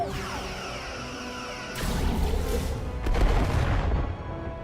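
Starship weapons fire in the Star Trek: Resurgence video game: a steady low hum of ship ambience breaks into a loud burst of blasts and rumbling impacts, followed by a second heavier volley before it settles back.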